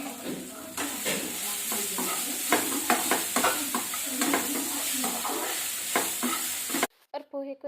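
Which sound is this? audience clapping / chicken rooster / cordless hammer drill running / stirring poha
stirring poha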